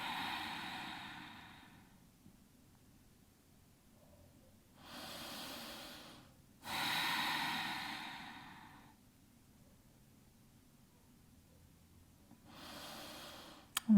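Deep yoga breathing, with long slow inhales and exhales through the nose, close and clear, in three or four audible waves separated by quiet pauses.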